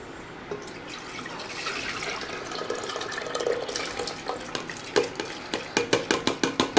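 Soaked masoor dal being added to a pot and stirred, a wet sloshing and scraping that grows into a run of regular, clearly spaced stirring strokes near the end.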